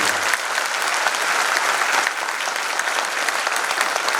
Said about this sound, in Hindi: इसलिए एक बार जोरदार तालियां बजाएं।